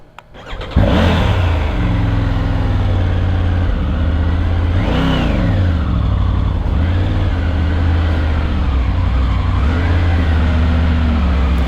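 A 2023 Triumph 900 GT Pro motorcycle engine starts and runs steadily and loudly up close, with a couple of brief revs partway through, no voices.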